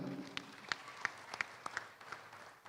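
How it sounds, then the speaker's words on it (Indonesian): Sparse, faint clapping from a small number of hands at a corporate event honoring Bank Mandiri, a handful of distinct claps spaced irregularly over a quiet background. "Tepuk tangan lagi"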